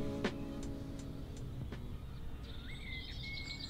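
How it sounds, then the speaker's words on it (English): Quiet countryside morning ambience with a steady low rumble, a few sharp ticks early on, and faint bird chirps and whistles appearing toward the end. "All I can hear is bees and bugs and birds."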